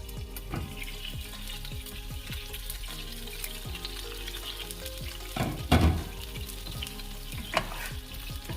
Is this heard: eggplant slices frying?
yes